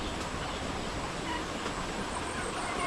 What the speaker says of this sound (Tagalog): May sisiw tayo ng pabo at saka sisiw ng manok.